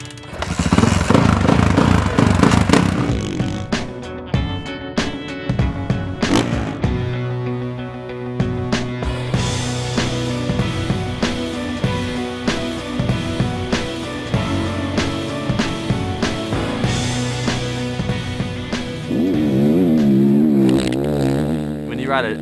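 A 250 dirt bike ridden at elevation on Eli Tomac's ranch revs loudly at first, then buzzes and shifts through changing engine pitches at a steady distance, with a final rising rev.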